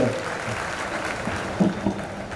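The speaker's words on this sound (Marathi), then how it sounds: "शशीभाऊंसाठी एकदा जोरात टाळ्या वाजूया." An audience at a large community gathering in Chalisgaon claps for Shashibhau, a dense, even patter of applause from many hands held at moderate level throughout, with a couple of louder claps near the end.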